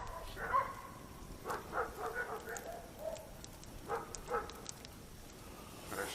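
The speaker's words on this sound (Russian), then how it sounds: "собаки вот эти заколебали." Dogs barking at night near a riverside campfire during burbot fishing, faint and distant, a few scattered barks and yips against a quiet background.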